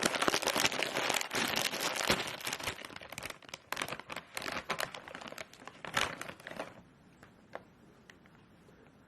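A Sun Chips bag is crinkled and ripped up close, dense loud crackling and tearing bursts for about seven seconds, then trailing off into a few sparse faint crinkles, with no talking.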